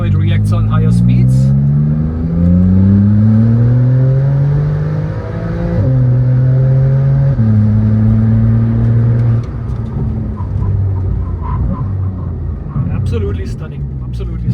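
A Porsche fitted with an upgraded performance brake kit builds speed on the road, its engine note climbing through rising harmonic sweeps with gear changes, loud and close throughout, while someone talks over it.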